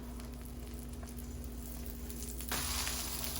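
An omelet just flipped in a pan, frying with a steady sizzle under a constant hum. The sizzle grows noticeably louder and brighter near the end.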